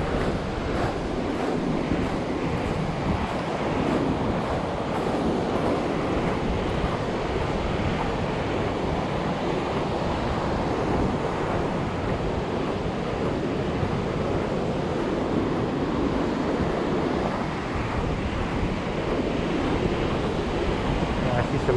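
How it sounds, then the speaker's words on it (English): Wind and ocean surf roll steadily at Ruby Beach, a continuous broadband wash with gusty buffeting across the microphone and no talk. "It is a little windy out here."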